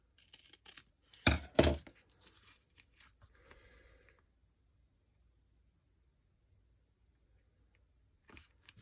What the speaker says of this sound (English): I need to trim that up just a little bit too.